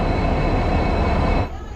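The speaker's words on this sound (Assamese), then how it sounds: "এতিয়া ট্ৰেইন ষ্টেচনৰ পৰা ট্ৰেইনখন ওলালে ধেমাজিৰ অভিমুখে" A train pulling out of a railway station, a loud, broad rumble with a steady tone that suddenly drops in level near the end of the brief stretch.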